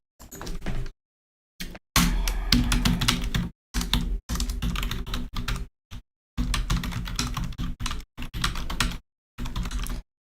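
Close, crisp clatter of an external computer keyboard being typed on in quick bursts of keystrokes separated by short silent gaps, with no talk.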